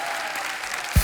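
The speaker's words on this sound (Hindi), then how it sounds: "एक बार जोरदार तालियां हमारे मेहमानों के लिए।" Studio audience applause for guests on a Hindi comedy talk show, a brief burst of dense, even clapping ending with a low thump.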